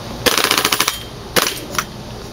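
A G&G airsoft rifle switched to fully automatic fires two quick bursts of rapid, snappy shots, followed by a single shot, all loud and close with nothing else heard.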